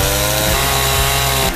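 A chainsaw clearing fallen trees from a blocked road in Sanford, North Carolina roars loud and close, its engine droning steadily with regular pulsing surges as it cuts through wood, no voices.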